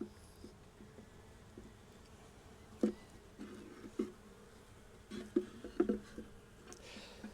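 Honey bees hum faintly and continuously around a managed beehive, with a few soft knocks and taps rising above the low, steady drone.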